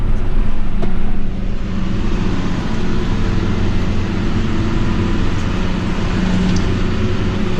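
A tractor mowing second-cut silage in a field, a heavy steady engine and machinery rumble close by, slightly louder in the first second then holding level and continuous.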